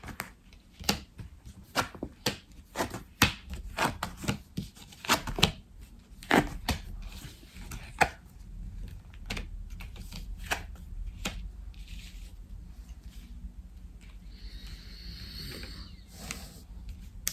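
Tarot cards being shuffled slowly for a reading, heard as scattered crisp riffles and soft slaps at irregular intervals, close and fairly quiet, thinning out into faint rustling toward the end.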